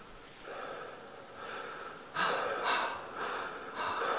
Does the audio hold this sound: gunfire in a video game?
no